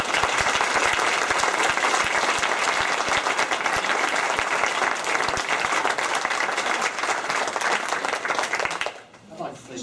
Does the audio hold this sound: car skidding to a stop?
no